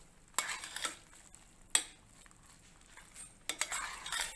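Fresh fenugreek khichdi is stirred in a pot with a metal spoon: three separate bursts of scraping and clinking against the pot, with near silence between them.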